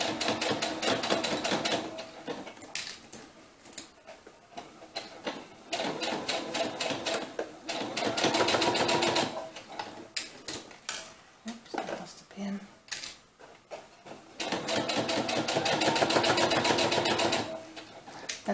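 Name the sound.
sewing machine with jean needle sewing doll winter cap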